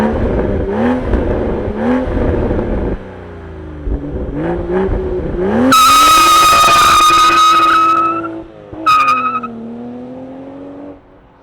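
A 2024 Toyota Supra 45th Anniversary Edition accelerates hard through its gears, the engine note rising loudly and dropping at each upshift, then revving high to a peak before easing off, all with no talking.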